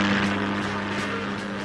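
A cartoon plane drones steadily, a loud, continuous propeller-engine roar with a rough, buzzing texture that holds for a moment with no voices over it.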